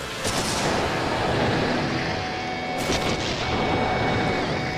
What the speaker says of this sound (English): A second, more powerful explosion detonates containers of high-octane fuel that have been placed in the car